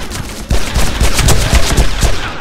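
Loud, close rapid gunfire in the Made Man shootout at Calvary Cemetery, a continuous rattle of shots with heavy low thuds after a brief quieter lead-in.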